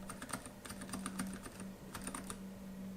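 Zilent V2 silent switches on a computer keyboard are typed in quick, irregular runs of soft, muted clicks, heard close and fairly quiet with no talking.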